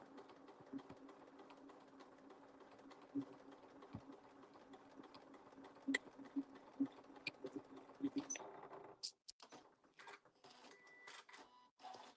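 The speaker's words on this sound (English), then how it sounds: "I'm going to top stitch along there, along that seam, just to hold the fabric." A domestic sewing machine top stitches white thread along a fabric seam on a small gift card bag, running in steady bursts of rapid mechanical stitching that stop near the end, with light handling noises after.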